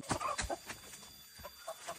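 Chickens cluck close by in a rural Sundanese setting, a run of short, uneven clucks and soft squawks over a faint background hum.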